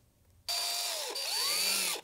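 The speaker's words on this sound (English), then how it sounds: "I will be drilling a hole through here" A power drill bores a hole through the upright of a model hydraulic crane base, a sharp close whine that starts abruptly, dips briefly as the bit bites, then revs on for about a second and a half before cutting off.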